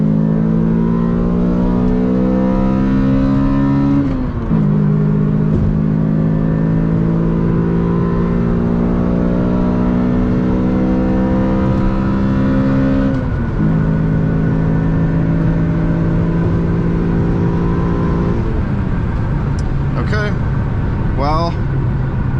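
A Toyota Corolla XRS pulls hard at full throttle, its engine droning and climbing in pitch through several gear changes, each shift marked by a brief dip before the rising note resumes, heard loud from inside the cabin.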